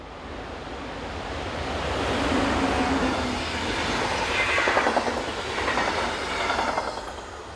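A Vogtlandbahn regional passenger train departs Hof, its steady rolling rumble swelling and holding with a faint clickety-clack of wheels over rail joints, no voices present.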